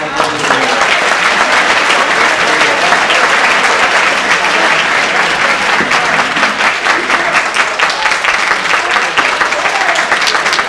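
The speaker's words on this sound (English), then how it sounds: "I'd like everybody to give yourself a round of applause" A large camp audience at an evening party-convention assembly applauds, dense sustained clapping filling the room at full volume for about ten seconds, with some voices mixed in.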